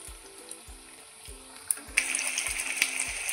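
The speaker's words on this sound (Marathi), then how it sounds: "आपल्याला हे 2-2 करूनच अशी मस्त तळून घ्यायचे आहे।" Breakfast snack pieces fry two at a time in oil in a pan, a soft sizzle with faint regular ticks that swells into a brighter, louder crackle partway through.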